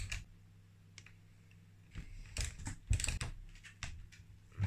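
A torque wrench clicks on the top-end bolts of a Yamaha YZ80 (1993–2001) during an engine rebuild, giving several sharp, close clicks in irregular bursts over a quiet background.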